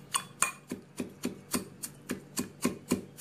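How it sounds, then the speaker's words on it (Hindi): Sugar and mint leaves pounded with the back of a wooden spoon for a virgin mint mojito, giving about a dozen evenly spaced, close dull knocks in a steady rhythm with no talking. "इसे हम किसी लकड़ी के चम्मच के पीछे से कूट लेंगे"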